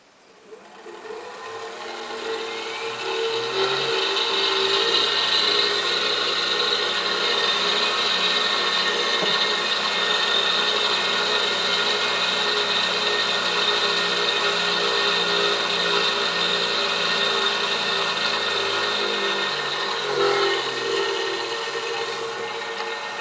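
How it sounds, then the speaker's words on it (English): A 1.5 HP Dayton three-phase motor runs unloaded on a TECO FM-50 variable frequency drive, spinning up and then holding a steady whining hum with a faint rattle, close and continuous for over twenty seconds. "I think the motor sounds a little rattly because there's no load on it"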